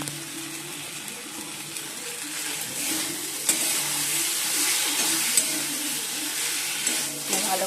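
Potatoes and pointed gourd fry in hot spiced oil in a pan, a steady close sizzle and hiss with occasional stirring clinks and scrapes throughout.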